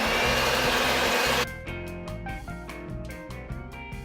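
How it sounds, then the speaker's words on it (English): A hand mixer with a whisk attachment whips cream in a loud, steady motor whir that cuts off after about a second and a half, giving way to music. "I have my whisk attachment on my hand mixer here, and I'm just going to whip this up"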